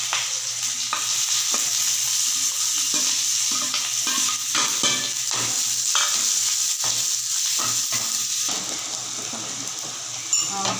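Chopped onions frying in hot oil with mustard seeds in a pan: a continuous sizzle with spatula stirring and scraping clinks at a steady rhythm, close and alone without voices.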